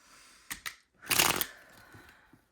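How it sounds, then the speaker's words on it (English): Tarot cards being shuffled in two quick riffles, then a longer, louder burst of card flutter near the microphone, followed by quieter handling in a calm room. "One last shuffle, please"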